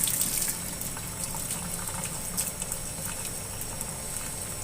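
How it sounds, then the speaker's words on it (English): Water gushes steadily from a mop sink faucet, a continuous hissing stream close by with no breaks and no voices over it. "Water is flowing out of it just fine."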